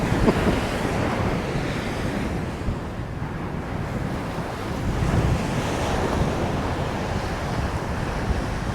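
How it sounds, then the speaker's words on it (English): Strong wind whips sand across an Oregon beach beside breaking surf, a loud, steady roar of gusts and waves with buffeting microphone noise throughout. "the sand that's been whipped by the wind hurts like hell"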